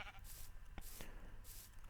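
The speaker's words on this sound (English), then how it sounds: "I brought some sheep over for that wool, as you can see here. Just white sheep for now." Faint, short bleats from white sheep in Minecraft, a few soft calls over quiet background noise.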